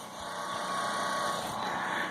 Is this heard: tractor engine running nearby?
yes